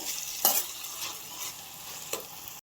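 Chopped tomatoes sizzle steadily in a pan over cooked garlic, with a couple of brief scraping stirs breaking through the constant, close frying hiss.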